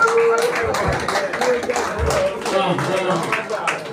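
An audience claps at a birthday celebration, irregular close handclaps under someone speaking over them.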